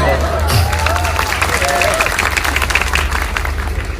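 An audience applauding at a sermon in a mosque, a dense patter of many hands clapping throughout, with a voice talking over it.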